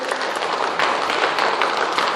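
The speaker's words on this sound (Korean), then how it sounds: "하나님께 영광의 박수." Dense, steady applause from a church congregation, many hands clapping together at a constant loud level throughout.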